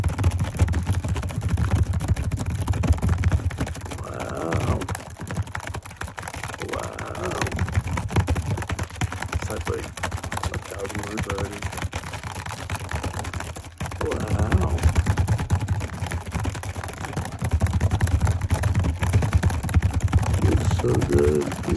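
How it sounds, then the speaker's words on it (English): Fast typing on a computer keyboard, a dense, continuous clatter of close key taps running for over twenty seconds, with a soft whispering voice surfacing now and then. "a lot of people have been requesting that I do some typing sounds"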